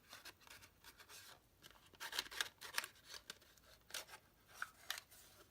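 A 1.5 inch circle punch works through paper for an Easter egg treat box craft, producing faint, close crunches, snaps and rustles in a series of short bursts with no speech.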